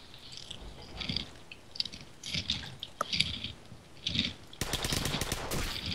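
A sniper rifle shot in the Call of Duty 4 multiplayer video game cracks out sharply amid a run of scattered game gunfire and clatter, followed by a dense burst of rapid shots at the end.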